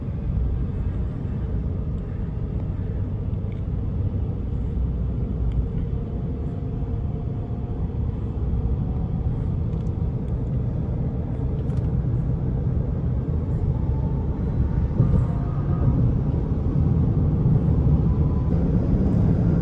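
Tesla Cybertruck on the interstate, heard from inside as a steady low road rumble and tire drone at highway speed, even and continuous, with no engine note and no talking.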